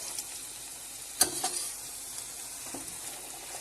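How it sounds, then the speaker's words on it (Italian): Tomato sauce ladled into a pan of sausage and mushrooms, with a steady quiet sizzle, a sharp splash near the start and a second one moments later, then low frying hiss. "A questo punto ci aggiungo 2 mestoli di salsa di pomodoro"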